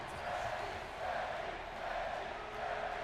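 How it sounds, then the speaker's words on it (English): A wrestling event crowd cheers and chants in an arena, a steady, distant roar of many voices rising and falling slightly throughout. "Crowd very strongly behind Becky here this evening"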